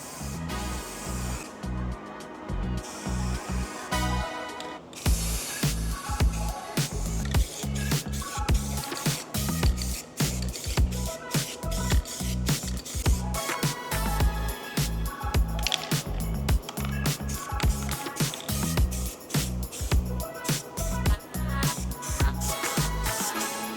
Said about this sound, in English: all we're gonna do is just spray a few coats of SCM paint on it